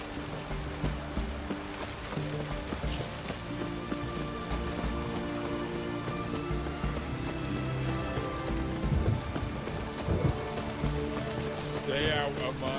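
Steady storm rain pours throughout a stormy scene in The Witcher 3, a dense continuous hiss with low rumbling beneath and a voice speaking over it.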